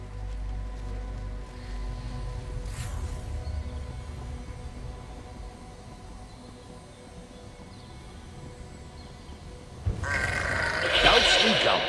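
Eerie bleating from ghostly goats in Elder Scrolls Online rises out of a low game ambience, with a voice talking, and a louder burst of distorted bleats near the end.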